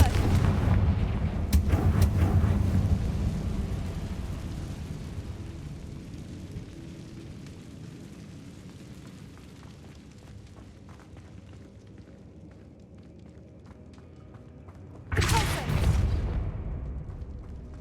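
In Hogwarts Legacy, a Confringo blasting curse erupts in a sharp crack and booming rumble that slowly decays. Several seconds of quieter ambience follow before a second loud blast bursts in near the end.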